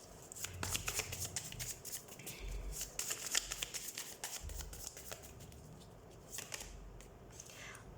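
Tarot cards being shuffled up close, a run of soft riffling flutters and quick papery slaps repeating for several seconds, quiet and without talk.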